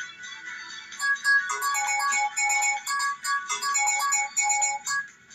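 An incoming call sounds on a phone as a bright, busy electronic ringtone melody, playing continuously for several seconds at moderate loudness, with no talk over it.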